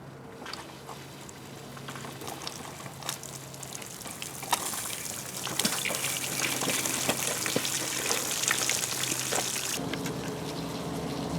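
Water gushes and splashes steadily from a hose supplying a bass boat outboard motor, getting louder partway through, with no talking.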